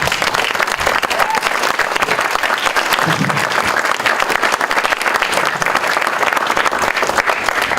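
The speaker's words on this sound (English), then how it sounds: "can we give them a round of applause just for coming?" An audience at a sustainability talk claps steadily, dense applause filling about eight seconds at an even level.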